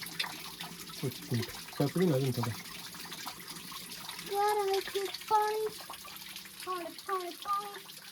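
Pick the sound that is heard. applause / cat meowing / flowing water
flowing water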